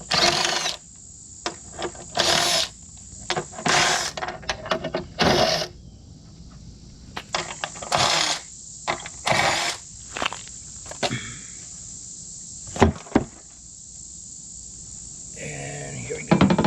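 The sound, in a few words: screws being removed from RAM 1500 truck step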